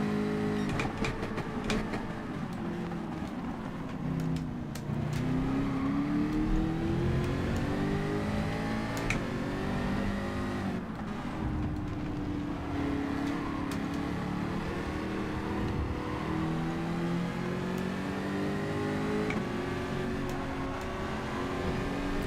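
An Alfa Romeo 155 Group 4 race car in Gran Turismo 7 at Catalunya revs and climbs through gears, a steady engine drone with rising and falling pitch through the corners, alongside other cars' engines.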